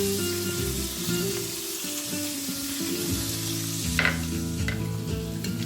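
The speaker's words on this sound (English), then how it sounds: "So now we're going to cook the squids." Squid frying with garlic and parsley in a pan for seafood paella, a steady sizzle across the whole stretch with a low background hum and a few sharp stirring clinks near the end.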